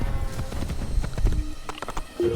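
A great horse galloping in a video game, with heavy rhythmic hoofbeats thudding low and close under faint game tones and chimes.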